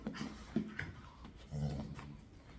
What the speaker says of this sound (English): You've got 2 puppies that want to play.